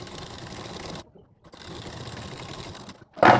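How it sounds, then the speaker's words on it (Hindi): A sewing machine stitches a blouse over its lining in two continuous runs separated by a brief pause, followed by a short louder clatter at the end. "एक सिलाई हम यहाँ पे लगाएंगे यानी अस्तर के ऊपर"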